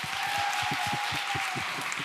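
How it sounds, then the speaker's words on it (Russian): Audience applauding at the closing ceremony of an all-Russian student graduation event, with a steady wash of claps and some distinct lower thumps at a regular pace, moderately distant and continuous throughout. "Эти аплодисменты вам."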